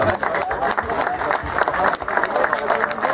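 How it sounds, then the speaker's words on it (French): Crowd clapping for the winner of a 13 km footrace, a dense burst of applause lasting throughout with some voices mixed in. "je vous demande d'applaudir, Damien de Robert"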